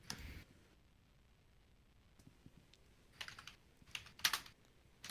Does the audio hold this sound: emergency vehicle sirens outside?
no